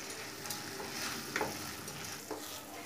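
Onions and masala spices (turmeric, coriander, Kashmiri red chili powder) fry and sizzle in a pan for Bengali doi mach rohu fish curry, a steady close sizzle with occasional stirring scrapes.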